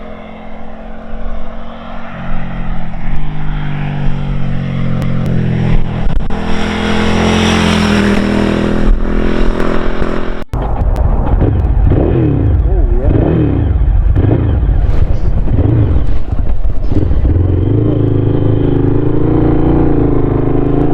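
A Ducati 900 SS converted into a cafe racer revs and accelerates, its engine note rising and falling through repeated gear changes while being ridden, loud and close throughout.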